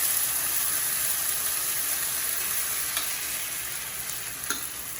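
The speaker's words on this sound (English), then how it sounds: "So now I'm going to put this paste here." Asparagus paste dropped into hot oil with nigella seeds gives a steady, bright sizzle and hiss, with a couple of faint utensil clicks near the end and no talk.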